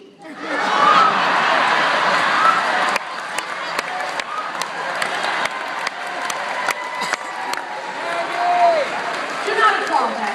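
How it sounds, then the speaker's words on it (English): A theater audience at a stand-up comedy show in Atlantic City breaks into sustained applause that holds steady for about ten seconds, dense clapping mixed with some cheering and laughter. "not applaud that. Take that back."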